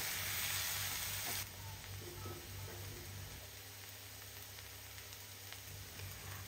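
Hilsa fish heads fry in oil with turmeric powder, giving a steady, close sizzle that is louder for the first second and a half, then settles into an even crackling hiss over a faint low hum.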